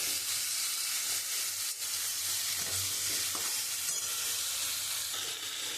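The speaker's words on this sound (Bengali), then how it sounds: "মশলাটা দিয়ে খুব সুন্দর করে আমি এবার একটু কষিয়ে নেবো" Turmeric, chilli and cumin spice paste fries in a pan with a steady, fairly loud sizzle and hiss, while a utensil stirs it with occasional scraping knocks; no one speaks.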